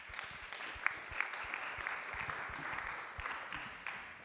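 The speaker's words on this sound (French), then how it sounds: "Je pense qu'on peut applaudir Pierre à nouveau." Audience applause at a public event on urban greening, a dense, steady patter of many hands clapping at a moderate distance for several seconds with no speech over it.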